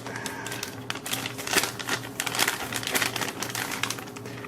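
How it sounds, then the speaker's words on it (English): Tape being peeled off a cardboard PC card box: a run of close, crackling rips and crinkles in uneven bursts, loud near the microphone with no talk. "let's go ahead and just take the tape off this"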